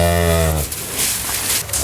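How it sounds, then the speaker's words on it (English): A Scimitar cow moos loudly and close by on a ranch in one long, deep call, followed by rougher open-air noise. "That's the sound of scimitar cattle."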